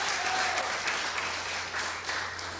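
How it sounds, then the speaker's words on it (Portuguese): A church congregation applauds together in a steady, dense burst of clapping that fills the space for a few seconds. "Dá um aplauso bem forte para Jesus."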